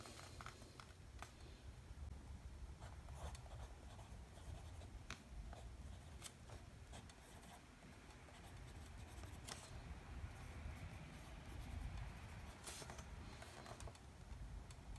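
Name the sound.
fountain pen writing with Italian ink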